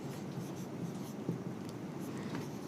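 Pen scratching steadily on paper while working through a Class 10 NCERT maths problem, a continuous close, soft writing texture with no talking.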